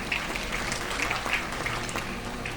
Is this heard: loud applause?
yes